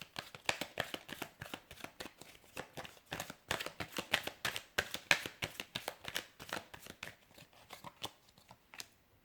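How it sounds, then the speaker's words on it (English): Tarot deck being shuffled at a table, a quick close run of crisp riffling card flicks in an even rhythm, fading out near the end with no talk over it. "I'm going to give the cards a shuffle"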